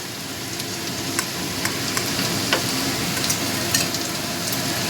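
Fish, potato and eggplant fry in oil in a pan, giving a steady close sizzle with scattered sharp crackles and pops throughout, and no talking over it.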